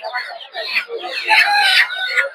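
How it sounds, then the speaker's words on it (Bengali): Native chickens cluck and squawk at a busy poultry market, with overlapping calls close by that include a crow-like cry. "এই কাকার এই জায়গায় প্রচুর পরিমাণে দেশি মুরগি"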